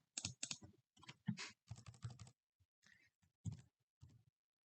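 Text typed on a computer keyboard, quiet close clicks in quick bursts and short runs with brief pauses between, heard alone with no voices.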